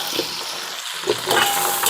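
Kimchi being tipped into fried rice in a hot pan, a loud burst of sizzling and frying that swells as it lands and keeps hissing steadily.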